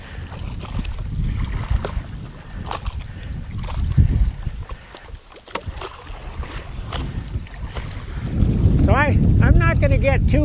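Strong wind gusting across a microphone outdoors on a lake while someone is on a stand-up paddleboard, a heavy low rumble that swells and fades, with some water movement and a voice speaking near the end.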